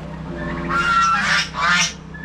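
Loud honking turkey calls, two harsh bursts in close succession over a steady low background hum.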